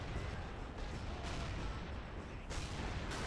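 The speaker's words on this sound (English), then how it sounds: "we'll get an interesting look here at the Waffenträgers firing at the attacking Soviet tanks" Waffenträger tank destroyers in the Men of War: Assault Squad video game fire on attacking Soviet tanks, a steady roar of distant artillery and gunfire with a few louder blasts breaking through the continuous din.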